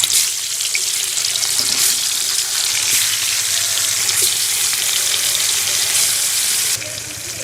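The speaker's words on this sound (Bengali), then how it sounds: "এখন আমি এই যে মাছ মাখিয়ে রেখেছিলাম তেলে ছেড়ে দেব" Marinated tilapia pieces frying in hot oil in a wok make a loud, constant sizzle with dense crackling close by, easing slightly at the end; no one speaks.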